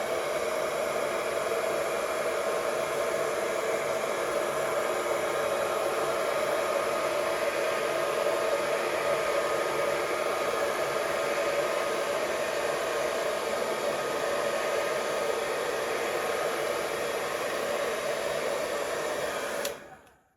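A hair dryer blows with a steady, loud whooshing roar for the whole stretch, close up, before abruptly switching off at the end.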